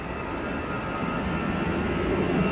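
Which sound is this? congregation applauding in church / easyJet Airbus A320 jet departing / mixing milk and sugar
easyJet Airbus A320 jet departing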